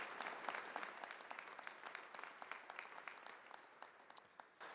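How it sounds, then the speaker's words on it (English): A crowd at a Louisville SummerWorks civic event claps steadily for Kindred, a corporate employer, a dense run of overlapping hand claps that holds for several seconds without speech. "So let's give a big round of applause to Kindred."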